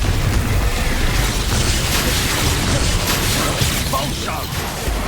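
A Confringo blasting spell going off in the Hogwarts Legacy wizarding game: a loud, sustained roar of explosion and crackling debris that fills the whole moment and eases slightly at the end.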